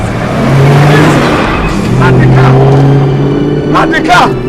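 A car engine revs loudly and close by, its drone rising and falling in pitch over several seconds while people shout in alarm over it.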